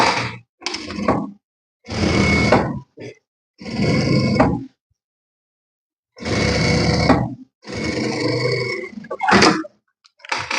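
A sewing machine stitches fabric strips for a patchwork rug in short bursts of about a second each, separated by silent pauses, with the motor whirring close by.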